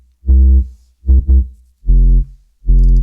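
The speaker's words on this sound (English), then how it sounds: "the sub bass sounds like this" Serum sub bass synth layer playing four low, deep notes in a rhythmic pattern, each a short sustained tone separated by silence, the third pair doubled quickly, loud and clean with no other sounds.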